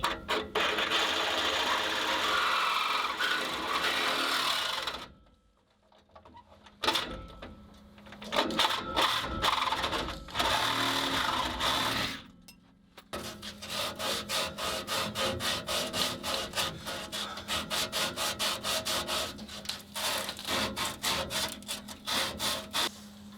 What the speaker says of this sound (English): I gotta cut some more off, just like 1/4 of an inch here.